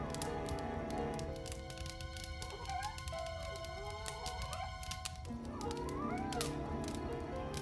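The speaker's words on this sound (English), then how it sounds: "Jethro then moved over to Rita, meowing frantically." A cat meows frantically in a series of rising, wavering cries, heard over a steady background of music and other layered sound.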